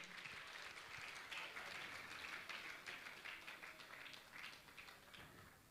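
Applause from a Jain religious assembly honouring guests at a Shanka Samadhan session, quiet and somewhat distant, a steady patter of clapping that holds throughout and thins slightly toward the end.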